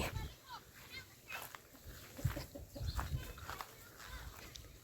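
Chickens cluck nearby in a series of short, uneven calls, mixed in with people talking at close range.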